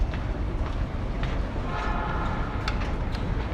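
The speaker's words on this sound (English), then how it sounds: "Train is coming." A commuter train pulling into a platform at a Tokyo subway station near Kudanshita, a steady rumbling roar with brief high squeals of brakes and wheels, loud and close.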